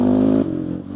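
A Honda TRX700XX ATV engine pulling steadily in third gear, a loud, close droning hum that drops slightly in pitch after a brief moment, with no talking.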